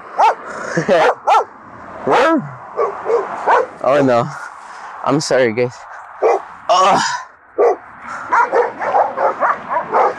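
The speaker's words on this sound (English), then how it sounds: "Got some dogs." Several dogs bark repeatedly near a city sidewalk, loud sharp yapping bursts and yips scattered throughout, with a person talking between and over them.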